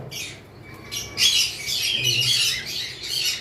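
Cockatiels kept in a bird market give shrill, raspy squawks and chirps in quick bursts, fairly close, over a low background murmur.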